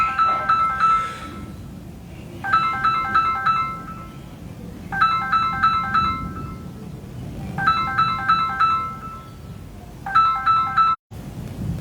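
A phone ringtone plays in five repeated bursts of bright melodic chiming, each about a second and a half long with short gaps between, steady and fairly loud over a low background rumble, with no voices.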